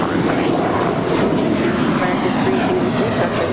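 Alaska Airlines jet roaring at full takeoff power on LAX runway 25 right, a loud, steady broadband engine rumble, with radio voices faintly beneath.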